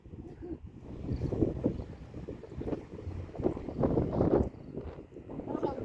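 A ship passes on the water near Khejuri village, a steady rumbling wash blended with gusting wind noise across the microphone and faint voices in the background.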